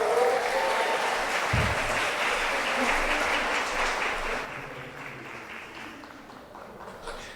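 A church congregation applauds a newly introduced pastor, broad steady clapping that fills the room for about four seconds before thinning and fading out toward the end.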